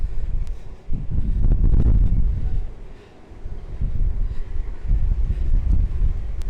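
Strong gusting wind buffets the microphone on a cruise ship deck, loud roaring surges that rise, drop briefly and return in uneven waves.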